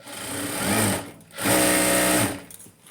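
An electric sewing machine stitches seams on straight palazzo pants in two loud, close bursts of rapid whirring separated by a brief pause, then slows to a few irregular stitches.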